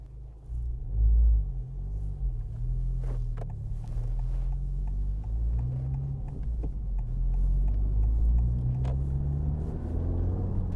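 A Honda Civic Type R FL5 on KW ST suspension and Advan A052 tires drones steadily on the Sodegaura circuit while warming its tires, a low continuous engine rumble with slight rises in pitch and load, heard alone from inside.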